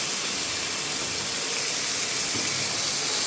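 Finely chopped tomatoes and onion sizzle in hot oil in a pan for dal, a steady, dense hiss that stays loud and even throughout with no talking.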